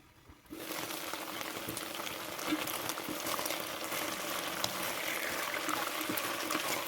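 Browned chicken simmers in a covered pot for a Kenyan chicken dish, giving off a steady, close bubbling hiss that starts after a brief quiet moment and holds evenly throughout.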